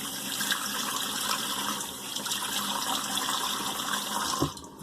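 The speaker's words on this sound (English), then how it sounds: "Let me rinse this alum off." Water from a tap runs steadily into a sink while an alum block is rinsed at a shaving session, a continuous close hiss that cuts off abruptly near the end.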